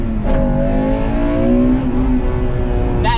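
A 1998 Acura Integra Type R's engine revs up, its tone climbing smoothly and strongly close by before the throttle lifts near the end.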